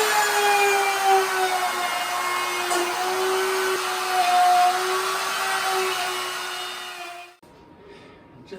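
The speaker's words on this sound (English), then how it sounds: "Then we'll run the router along the edge of it." A router runs along the edge of a wood panel, a loud steady whine that holds for about seven seconds before cutting off abruptly into quiet.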